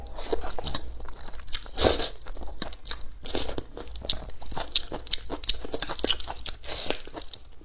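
Spicy noodles with eggs being eaten up close, with loud crunchy bites, chewing and slurping in a steady rhythm throughout, with no talking.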